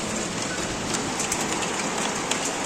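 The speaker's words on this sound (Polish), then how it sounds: "Ty, grad to jeszcze pada, tylko tak mało tego gradu." Rain with some hail falling during a strong thunderstorm with wind in Kunów, Poland, a steady dense hiss of drops on surfaces with faint scattered sharper ticks, continuous and even, no voices.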